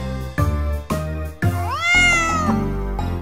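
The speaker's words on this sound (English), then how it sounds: "A cat is in the barn" A cat meows once in a bouncy kids' barnyard song, a clear, rising and falling mew heard up close over loud rhythmic music.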